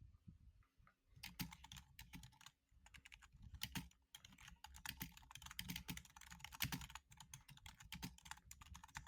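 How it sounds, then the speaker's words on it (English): Rapid clicky typing on a computer keyboard, close and quiet, in uneven bursts of sharp clacks with brief pauses between runs and no talking. "You guys like that click clack sound? You guys like that keyboard?"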